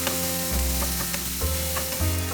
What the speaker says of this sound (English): tomato, fry them for 2 minutes only